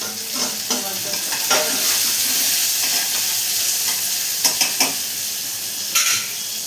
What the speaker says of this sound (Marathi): थोडं परतून घेते.